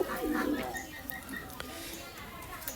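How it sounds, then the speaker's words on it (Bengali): Racing pigeons on a rooftop give a short, close coo near the start, followed by faint bird sounds under someone talking. "এগুলা হচ্ছে রেসার কবুতর"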